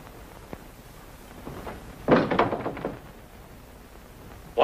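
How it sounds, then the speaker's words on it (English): A door thuds shut with a cluster of rattling knocks and clicks like a lock being turned, loud and close, preceded by faint quiet knocks and followed by another sharp bump at the end. "Why'd you lock the door?"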